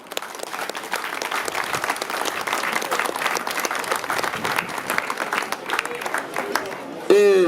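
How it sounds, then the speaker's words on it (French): An audience at an officials' gathering in a small commune of 400 inhabitants applauds itself, dense sustained clapping building in intensity across the room and continuing to the end. "et vous pouvez vous applaudir"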